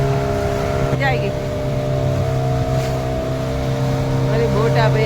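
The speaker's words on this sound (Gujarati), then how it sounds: "મારી બોટ આ ભાઈ હલાવે છે મસ્ત મજા." A motorboat engine drones steadily on the water with a low harmonic hum and wind rush throughout, while voices talk faintly in the background.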